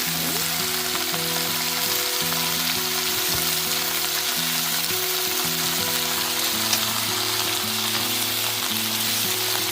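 Bean sprouts stir-fry in a wok over very high heat, a steady close sizzle and hiss with a continuous tonal hum running underneath and no voices.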